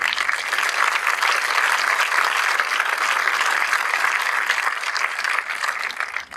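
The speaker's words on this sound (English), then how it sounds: "which I think is something that deserves a round of applause" A graduation audience applauds in a dense, sustained wash of clapping from a large crowd, steady and loud throughout before easing at the very end.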